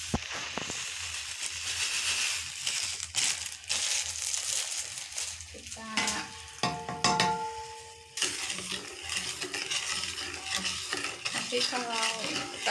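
White sugar and water stirred in a pan, gritty scraping and crunching strokes with clinks of a utensil against metal and a faint sizzle underneath, close and continuous with no speech.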